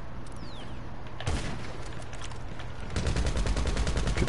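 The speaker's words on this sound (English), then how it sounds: "Who the fuck is sniping at me?" Gunfire erupts in a video game firefight as an unseen sniper engages, starting with a single loud crack followed by a rapid burst of repeated shots, close and punchy, with no talking.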